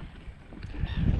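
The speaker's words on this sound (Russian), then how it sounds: "Слышите всплески?" Feeding perch splash at the water surface beside a boat on Lake Ladoga, a few soft watery slaps that build toward the end over a faint background hiss.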